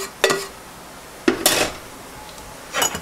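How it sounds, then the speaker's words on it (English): A utensil scrapes and clatters in a pan as fried onions and mushrooms are stirred into quinoa. There are three separate bursts of metallic scraping with quiet gaps between them, close up and with no talking. "we're just going to mix in the fried onions and mushrooms with the quinoa"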